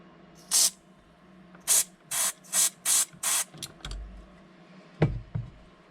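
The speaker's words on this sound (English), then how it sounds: "Just spray it right down inside that gap between the motor and the body shop." Aerosol cleaner sprayed into the gap between the motor and body of a Hornby Mallard model locomotive tender, heard as six short, close hissing bursts in an irregular rhythm, followed by a few faint clicks and handling knocks.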